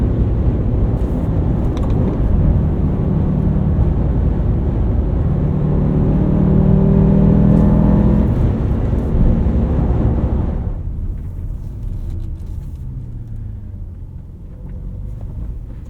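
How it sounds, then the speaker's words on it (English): A BMW M5 E60 with a V10 and six-speed manual drones steadily while driving, a deep engine rumble from inside the cabin that eases off and quiets sharply partway through, with no talking. "that's going to wrap up our drive on the E60 BMW M5"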